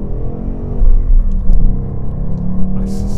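Ford Mustang Bullitt V8 with sport exhaust accelerating hard from inside the car, a loud deep rumbling engine note climbing steadily through the revs.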